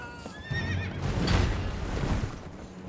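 Torrent, the spectral horse in Elden Ring, gives a loud, close whinny, a short rising and wavering neigh, then snorts over a breathy rush and a few hoof clops, with no talking.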